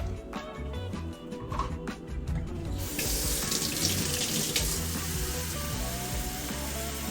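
Water from a kitchen tap runs steadily into a bowl while making bread dough with yeast and salt, a continuous rushing splash that grows brighter and fuller partway through, close and alone.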